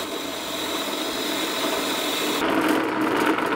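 Continuous whirring and grinding of a power tool polishing a metal aircraft propeller, steady and close, shifting slightly in tone partway through.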